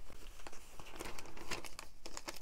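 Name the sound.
paper being crinkled into a journal pocket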